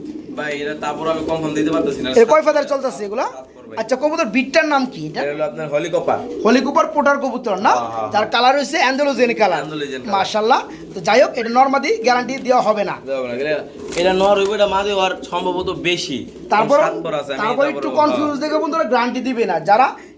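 A male pigeon coos at a pigeon seller's, with repeated throaty, rolling coos that come in close bursts, mixed with people talking nearby.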